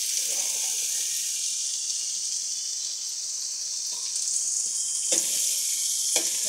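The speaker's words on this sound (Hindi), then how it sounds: "इसको भूनना है, कम से कम आधे मिनट के लिए इसको फ्राई करना है" Sliced capsicum frying in a pan on a home stove for a potato and egg dish, a steady close sizzle with faint stirring scrapes and a couple of louder spatters near the end.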